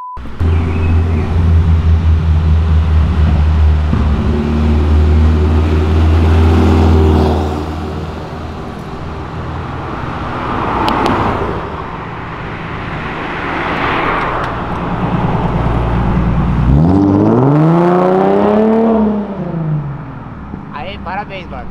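Cars downshifting and passing along Avenida Europa, engines droning low through the first half, then one car revving hard with a rising and falling sweep as it goes by near the end; voices talk over the traffic throughout.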